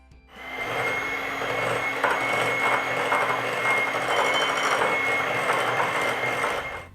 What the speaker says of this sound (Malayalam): അതിലേക്ക് 1/4 കപ്പ് പൊടിച്ച പഞ്ചസാര കൂടി ചേർത്ത് ബീറ്റ് ചെയ്യാം